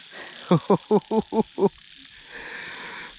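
A frog lets out six quick, evenly spaced croaks close by during night rain, followed by a soft patter and hiss of rainfall with faint insect chirping.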